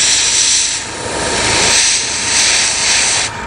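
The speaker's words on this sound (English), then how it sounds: "The idea behind this gun is to waste less paint or have less overspray," A paint spray gun hisses steadily while spraying paint onto a plaque, a broad airy rush that swells and dips in short bursts, loud and close, with no voices.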